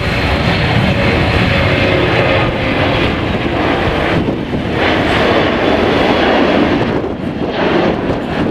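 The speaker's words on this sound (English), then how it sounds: "It will call for go-around power and climb the aircraft away from the airfield." E-3 Sentry with four CFM56 engines climbs away from the airfield on go-around power after an overshoot at an airshow, a loud sustained jet roar with wind buffeting, no talk.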